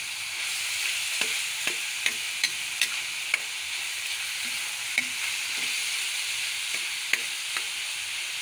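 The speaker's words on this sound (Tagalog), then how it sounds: "Igigisa natin ng maigi hanggang sa magmantika siya. Maging brown na din ang ating karne" Pork sautéing in a pan as its fat renders and browns, a steady close sizzle broken by sharp crackles and pops, with occasional stirring scrapes and no voices.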